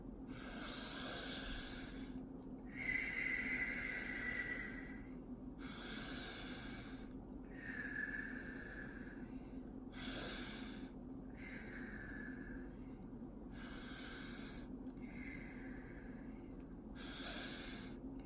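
Slow, deep breaths during an EFT exercise, with the points held rather than tapped, come as long airy inhales and exhales close to the mic, about seven unhurried cycles in a row.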